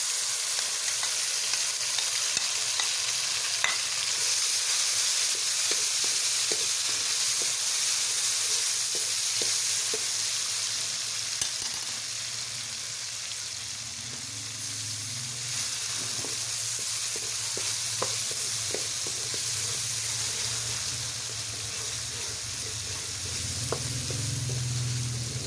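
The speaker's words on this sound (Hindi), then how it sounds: "अदरक को हम तकरीबन 1 मिनट तक भूनेंगे।" Ginger garlic paste frying in a pan with browned onions, a continuous close sizzle with scraping stirring strokes, steady and alone throughout.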